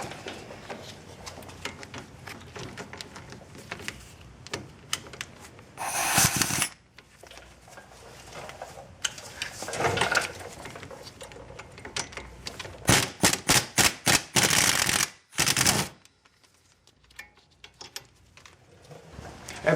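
Bolts come off a front wheel hub assembly of an Alero, worked with a socket on a universal joint. Several loud, rapid rattling bursts are separated by quieter pauses of workshop clatter, with no talking.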